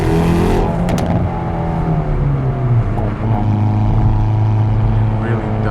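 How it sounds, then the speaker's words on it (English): A Hyundai Veloster N with manual transmission is driven hard, its engine and exhaust droning loud and close as revs rise and hold, a steady strained roar under occasional faint cabin noise. "when you start ripping this car,"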